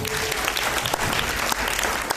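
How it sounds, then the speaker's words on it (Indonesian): An audience at an insurance business presentation claps for a man being honoured, a brief, dense burst of applause at steady volume filling the room. "Boleh kasih tepuk tangan untuk Bapak Martinus Siang."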